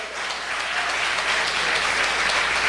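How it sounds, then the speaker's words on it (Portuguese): A congregation at a church service breaks into dense, sustained applause that holds at a steady, fairly loud level for the whole stretch, with no voices over it. "um aplauso bem grande para esse Senhor"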